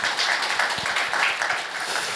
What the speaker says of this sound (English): Please give her a round of applause for such a great job for that.